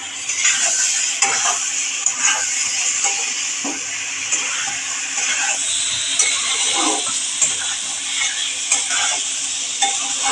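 Cauliflower florets and potato pieces sautéing in hot spiced oil in a pan, a steady bright sizzle broken by frequent scraping stirs and light clinks of a utensil against the pot, close and continuous with no talking.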